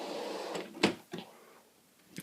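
A deep drawer in a makeup storage unit slides and bumps, giving a few soft knocks and a scrape close by at low volume, with no talk.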